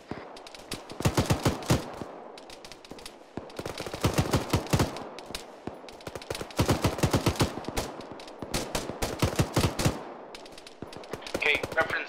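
Sustained GPMG machine gun fire during an Arma 3 military simulation firefight, long rattling bursts separated by short pauses, loud and close, continuing for most of the stretch.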